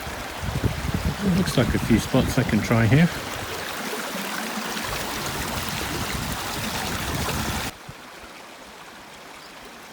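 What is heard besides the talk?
Arm River flowing under small bridge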